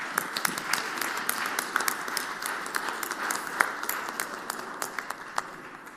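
Scattered, moderately faint applause from a group of visitors in a state Senate chamber, irregular individual claps over a soft room hum.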